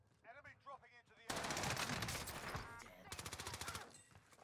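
A Sten submachine gun fires in Warzone, with rapid rattling bursts that follow a few spoken words. One long loud volley is followed by a second quick burst.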